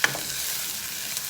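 Garlic sizzles in hot oil in a pan, a soft steady frying hiss with a light stir at the start, brief and close.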